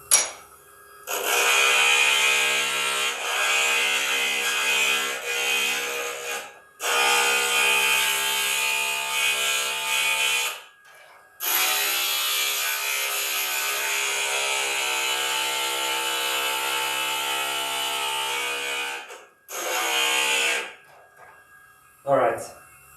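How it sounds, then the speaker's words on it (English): A stained glass piece being sanded smooth along its curves on a grinding tool, a loud sustained abrasive whir in several long bursts separated by short pauses. "this time around we're gonna sand it down again, very slightly, so just to make sure that all the curves are nice and smooth"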